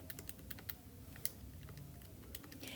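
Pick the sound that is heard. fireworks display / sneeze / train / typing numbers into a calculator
typing numbers into a calculator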